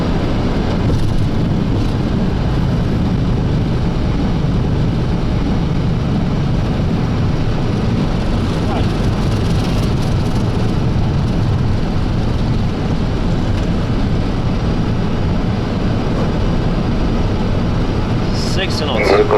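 A Boeing 737 on its landing rollout roars with thrust reversers, a loud, broad, sustained rumble heard from inside the aircraft that holds level throughout.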